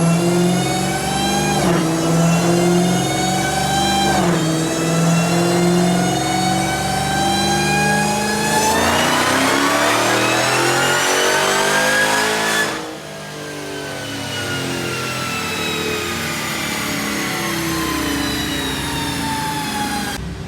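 A Dodge Hellcat Redeye V8 revs hard on a dyno, its loud, harmonic-rich roar climbing steadily in pitch through a long pull, then dropping off sharply and settling into a lower, rougher idle-like drone.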